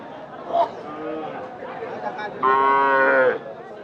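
Heifer calves at a busy village cattle market on a hot day, one calf giving a loud drawn-out moo near the end amid background chatter and talk.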